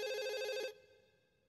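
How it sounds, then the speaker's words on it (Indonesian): A telephone ringing in a Doraemon cartoon, a bright electronic trill that sounds loudly once, then cuts off and leaves a faint fading tail and near silence. "Ada telepon dari Suneo."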